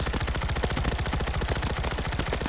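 Rapid automatic gunfire mowing down zombies in World War Z, a loud, close, continuous stream of evenly spaced shots with no pauses.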